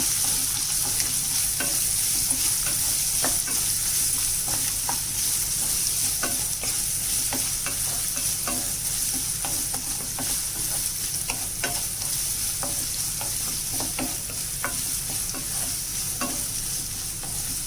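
Carrot pieces sizzle steadily in a hot pan with ivy gourd for a fry, with repeated scraping stir strokes breaking through the constant hiss, close and loud with no talking.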